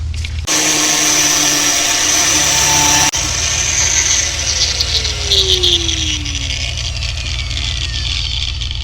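A power tool whines loudly and steadily, close up, as it cuts out a clogged metal mesh screen on a quad bike, with a brief break near the start and a wavering tone later on.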